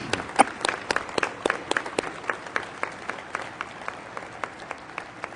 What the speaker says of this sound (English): let us acknowledge you with a round of applause.